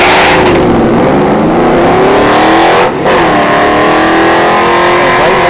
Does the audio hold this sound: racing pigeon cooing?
no